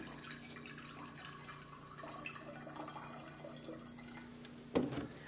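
Oil is poured into water for a homemade lava lamp experiment, a soft, steady trickle and dripping of liquid running close by for several seconds, ending in a brief louder splash.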